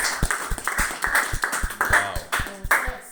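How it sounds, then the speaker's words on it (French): Rhythmic clapping from a church congregation, a steady run of sharp claps with voices and exclamations woven through, close and fairly loud. "Applaudissons mes bien-aimés."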